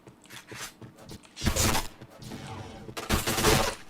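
Gunfire in a shooting video game: bursts of rapid shots and sharp cracks in two main volleys separated by quieter scattered pops, with no talking.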